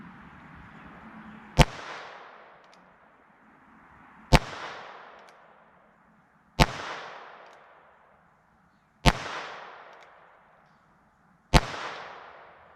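Five sharp pistol shots from a small revolver, fired one at a time at roughly two-second intervals, each a loud close crack with a short decaying tail, no talking.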